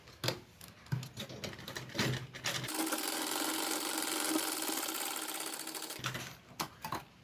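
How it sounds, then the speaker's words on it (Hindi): A sewing machine top-stitches a cloth lunch bag, starting with short clattering bursts, then running in one steady whirring stretch of about three seconds before stopping into a few more brief stitching bursts. "यहाँ से इस तरह से हम इस पर टॉप स्टिच कर देंगे।"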